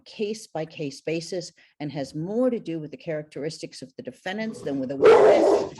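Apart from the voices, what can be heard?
dog barking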